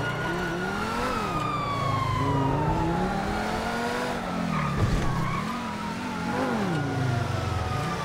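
Police sirens wail and sweep up and down in GTA V, loud and continuous for eight seconds alongside engine roar and tire skids during a chase.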